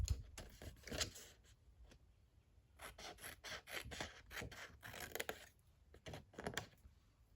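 Scissors cut through 6x6 paper up to a score line, giving close, repeated rasping snips in uneven bursts with short pauses between strokes and no talking.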